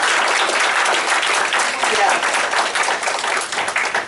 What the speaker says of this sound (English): Loud round of applause for volunteers